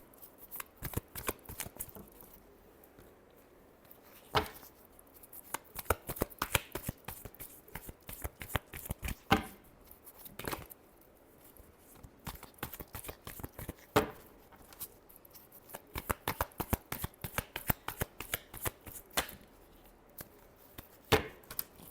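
Tarot cards are shuffled by hand nearby in repeated bursts of crisp riffling and snapping, separated by short quiet pauses.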